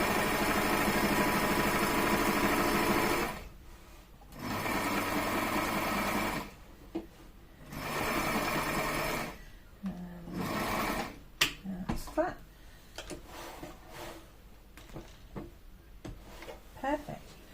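A HandiQuilter Moxie XL quilting machine stitches a quilted box in several separate bursts of a few seconds each, with pauses between them, and a person talks over parts of it.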